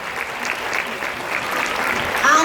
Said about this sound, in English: Give them a huge clap, please.